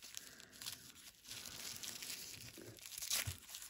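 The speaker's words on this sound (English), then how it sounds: "Let's see if I can get it open without damaging the sticker too much." A sticker-sealed subscription box package being peeled open, with close, quiet crinkling and tearing of paper and plastic across a few seconds, ending in a brighter rip.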